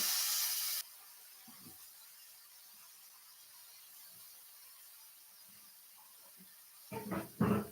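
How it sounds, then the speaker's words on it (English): An aerosol spray can used near a flame in a home kitchen, giving a few short, close hissing sprays near the end after a quiet stretch with faint clicks. "So keep it away from the flame when you're spraying it."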